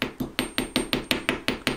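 A hammer gently tapping jewellery wire against a metal block to straighten it, ten sharp evenly spaced metallic taps in a steady rhythm, close and clear with no talking.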